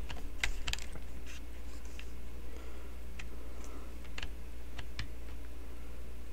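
Computer keyboard typing during a game, quick irregular key clicks in short bursts over a constant low electrical hum, close and moderately loud.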